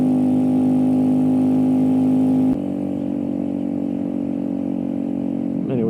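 Custom Kawasaki Z125 motorcycle held around 7,000 RPM, a loud steady exhaust drone that drops slightly in pitch midway and stays constant, heard up close while riding.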